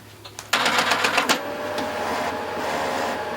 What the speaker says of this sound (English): And now the printer will automatically start loading up with ink.